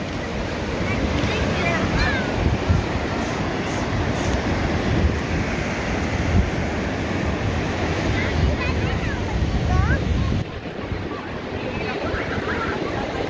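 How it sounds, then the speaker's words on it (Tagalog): Ocean waves wash steadily onto the beach at a resort, a continuous roaring surf with wind buffeting the microphone, while voices are faintly present in the background. "Grabe ang balod"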